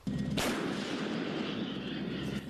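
A single heavy blast from a Panzerhaubitze 2000 self-propelled howitzer booms out, followed by a long rolling rumble that fades slowly.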